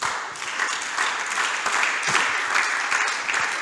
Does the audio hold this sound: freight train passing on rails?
no